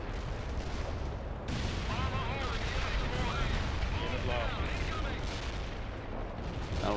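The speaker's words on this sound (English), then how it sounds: "Well, that's artillery." Artillery fire in the World in Conflict game: a constant dense rumble of distant barrages and gunfire stretching through the whole stretch, with whistling shell sounds flickering above the booming bed.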